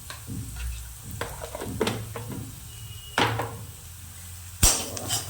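Peanuts and a pinch of salt are stirred in a pan, with scattered scraping and clattering of the spoon and nuts, a couple of sharper knocks, and quiet gaps in between.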